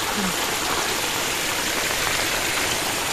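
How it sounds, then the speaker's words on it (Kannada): Water streams steadily through a dense forest wetland near a waterfall during the rainy season, a continuous broadband rush that stays close and evenly loud throughout with no voices. "ಇಲ್ಲಿ ಈ ಥರ ನೀರು ಹರಿತಾ ಇರುತ್ತೆ ನೋಡಿ ಗಮನಿಸ್ಬೋದು ನೀವು"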